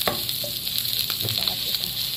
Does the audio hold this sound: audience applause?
no